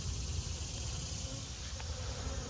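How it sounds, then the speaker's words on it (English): Honeybees buzz steadily inside a hive, a dense, continuous hum that holds at an even level throughout with no voices. "Number 1 appeared to have a nice buzz going on inside."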